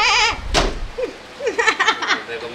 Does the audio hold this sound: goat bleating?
yes